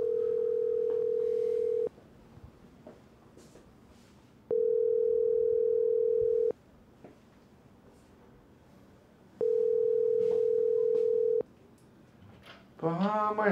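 A telephone dial tone sounds in three steady, loud two-second bursts separated by quiet gaps, ending with a brief burst of other tones.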